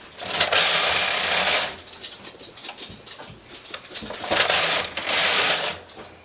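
A knitting machine carriage is pushed across the needles in two bursts of bright whirring and clacking, close by, separated by quieter mechanical clicks.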